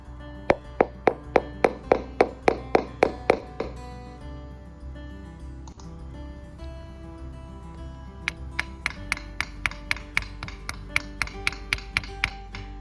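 A hand taps on stucco and EIFS exterior wall surfaces in two sets of quick, evenly spaced knocks, a louder sharper run first and a lighter, duller run after a short pause, close and clear with no talking.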